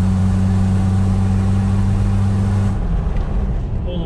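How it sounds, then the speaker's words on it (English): A car whose exhaust pipe is coming apart gives a loud, steady droning rumble with a rough buzzing edge, heard from close by, then drops away sharply near the end. "Bloody exhaust pipe coming apart on the way over here, so we've been listening to this."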